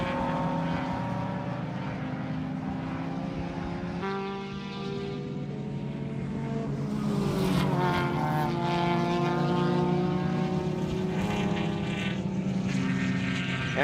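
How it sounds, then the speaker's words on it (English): A BMW race car engine at open throttle during a WRL endurance race at Eagles Canyon, a loud sustained roar with rising and shifting pitch, heard at a distance among other engine drone, no talking. "Judging by the open throttle BMW behind."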